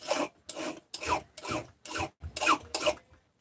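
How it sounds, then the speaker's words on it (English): Metal rods being deburred with a hand file, about eight rasping strokes in a steady back-and-forth rhythm, close and fairly loud with short pauses between strokes. "But I'm going to deburr these"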